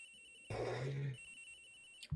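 A person's voice imitates a phone ringing in Phoenix Wright: Ace Attorney – Trials and Tribulations, one loud, buzzy ring-like burst of about half a second, followed by a quieter tonal hum and a brief low thump at the end.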